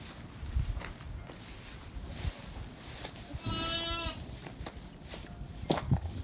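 Welsh and Shetland ewes at feeding time on a farm, one clear bleat rising over a busy outdoor background of shuffling, movement and low noise, with a few thuds nearby.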